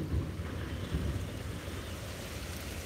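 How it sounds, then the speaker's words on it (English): Ocean waves at a beach at sunrise, heard as a continuous low rumble of surf with some wind noise, steady and fairly soft, with no voices. "soak in this beautiful view and the sound of the waves for one more minute"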